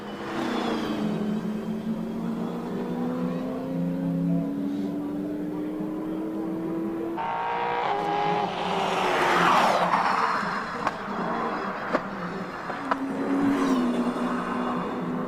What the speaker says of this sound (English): Let's listen to this AMG in a Lotus Exige.